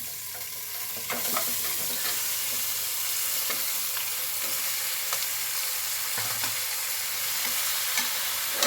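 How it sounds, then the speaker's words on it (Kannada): Washed chicken pieces frying with onions in a pot, a steady close sizzle with intermittent ladle scrapes and knocks running throughout, no talking. "ತೊಳೆದಿರೋ ಚಿಕನ್ ಹಾಕ್ತಾಯಿದ್ದೀನಿ."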